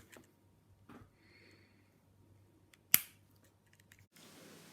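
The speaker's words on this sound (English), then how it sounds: "here I'm just using some nail clippers to clip the plastic off" Nail clippers snip through plastic sprue on an OO gauge model gantry kit, giving one sharp, close click followed by a couple of faint, small clicks in a quiet room.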